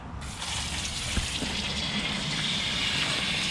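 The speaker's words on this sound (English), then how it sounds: "Here to wash out the onesie." Tap water runs and gushes steadily nearby while a spiral tie-dyed onesie in hot pink and golden yellow is rinsed in a sink, with a continuous splashing rush and no talk.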